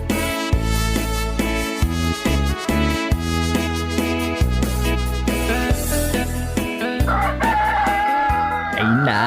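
A rooster crows near the end, rising over loud, bass-heavy music with a steady beat in an Ilocano comedy drama scene.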